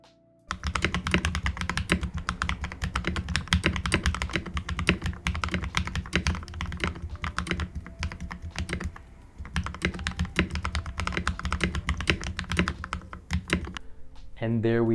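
Dense, steady typing on an inexpensive custom mechanical keyboard, with loud, close key clacks in a fast run and a brief pause near the middle, alone with no talk.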